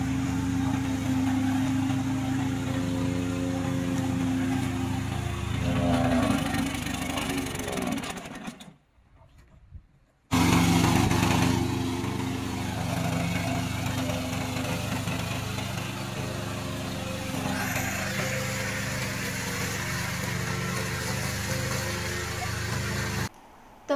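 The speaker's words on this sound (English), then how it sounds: "Today, I will introduce our remote controller mower." A remote controlled lawn mower runs with a steady engine hum and buzz, cutting out briefly near the middle before starting up again and running on at a loud, even level.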